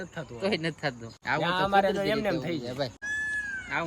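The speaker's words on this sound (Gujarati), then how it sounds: "વાતાવરણ ખરેખર તમને મોરલા બોલે" Loud, wailing peacock calls, several drawn-out meow-like cries in quick succession, close by, with a brief pause before a final high call.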